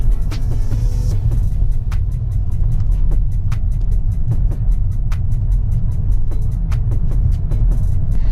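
Mercedes-Benz E-Class 200 coupe accelerating on the road, a steady loud engine and road rumble heard from inside the car, with occasional sharp clicks and ticks over it and no talk.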